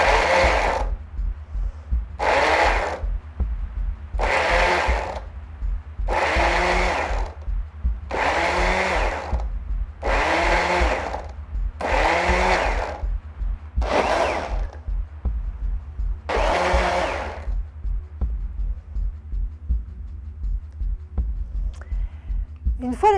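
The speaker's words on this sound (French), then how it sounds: "on va mixer, on va se servir de la position pulse et on va mixer autant de fois que nécessaire jusqu'à l'obtention d'un jus" Blender on pulse setting mixing juice with lemon, about nine evenly spaced whirring bursts over a steady low motor hum, close and fairly loud.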